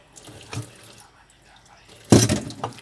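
Water is added to a flour batter for crispy fish-sauce fried chicken wings, a faint trickle early on, then a loud splashing pour near the end.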